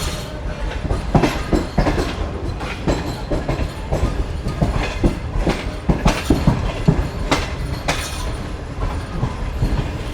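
Inside a moving Shalimar Express passenger train, a loud continuous rumble with rhythmic clickety-clack of wheels over rail joints and occasional metallic clanks, no voices.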